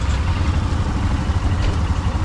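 A motorbike engine idles at high altitude in Ladakh with its check-engine light on, a loud, steady low rumble close by with no break.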